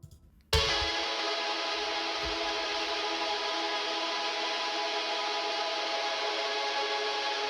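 Electric guitar note picked very rapidly for a metal mix, drenched in heavy delay, reverb and distortion, bursting in loud after a brief quiet start and holding a dense, sustained wash to the end.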